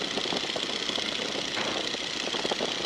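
Engine of a 1942 Boeing Stearman biplane throttled back to about 1800 RPM, a steady, continuous mid-range drone with dense rough texture and no pauses, loud and close throughout.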